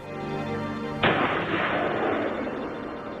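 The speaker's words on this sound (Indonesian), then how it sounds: "melihat suar yang ditembakkan, Ray pun segera pergi untuk mengeceknya." A single sharp, loud report from a flare gun firing in the Arctic, bursting abruptly over a low droning background and trailing off into a rushing decay.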